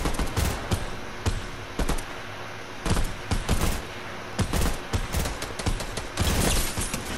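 Rapid gunfire in the Fortnite video game crackles in dense irregular bursts of sharp shots, close and loud, running almost continuously with brief gaps.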